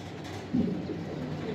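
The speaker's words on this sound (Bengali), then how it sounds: "প্রথমে এক পেয়ার কবুতর" Pigeons cooing, a pair of Giribaz high-flyer birds of the Palla line, male and female; a soft, low coo swells up midway and murmurs on steadily over a constant background hum, with no talking.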